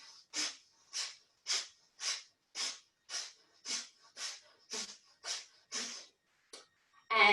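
Breath is pushed out sharply through the right nostril in a breathing exercise, about a dozen short, evenly spaced close puffs of air in a steady rhythm with brief silences between them.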